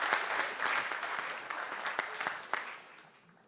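An audience bursts into applause, a moderately loud wash of many hands clapping that swells and then tapers off over a few seconds.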